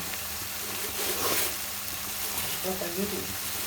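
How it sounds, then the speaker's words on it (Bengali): Masala with bay leaf frying and being stirred in a home kitchen pan, giving a steady close sizzle with scraping stirs, and voices talking over it now and then. "মশলাটিকে সুন্দরভাবে কষায় নেওয়া হচ্ছে"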